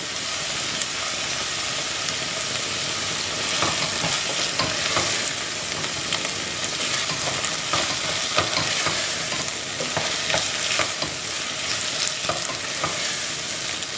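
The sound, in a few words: onions and tomatoes sautéing in a pan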